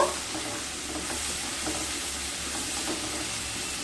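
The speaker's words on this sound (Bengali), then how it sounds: "একটু নেড়ে নেব।" Raw papaya being stirred in a pan with turmeric, chilli powder and ginger paste, giving a steady soft sizzle with light scraping of the spoon, close and continuous throughout.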